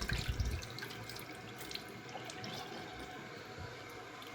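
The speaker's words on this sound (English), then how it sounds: "Just going to dump out this clean water." Clean water is poured out of the tank of a Bissell Little Green carpet cleaner into a sink, a steady close splashing stream with a few drips that carries on for several seconds without speech.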